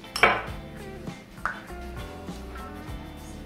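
Cocoa powder is mixed with brown sugar in a bowl for a messy brownie pudding, a sharp spoon clink at the start followed by soft scraping and a few lighter taps against the bowl, close and alone.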